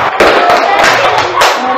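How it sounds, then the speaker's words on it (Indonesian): Classroom of students clapping hands together, a dense burst of many overlapping claps filling the room, close and loud, with some voices mixed in. "Baik, tepuk tangan."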